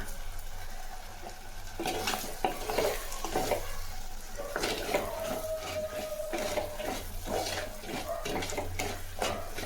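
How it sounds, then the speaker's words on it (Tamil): Onions sauté with salt in a pan for a village-style fish curry, producing a continuous close sizzle with the scrape of stirring over it. "வெங்காயம் நல்லா வதக்கட்டுங்க அது கூட நம்ம உப்பு சேர்த்துக்கலாம்"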